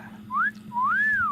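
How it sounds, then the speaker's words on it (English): A person gives a two-note wolf whistle, a short rising-falling note followed by a longer swooping one, clear and close over a steady low background hum, with no talking. "I love that he's giving her the whistle of wolf every time."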